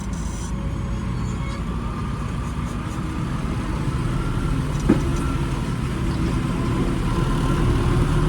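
A tractor engine drones steadily during shed excavation work with digging and dumping, a constant low rumble that stays close and loud throughout, with one brief knock partway through.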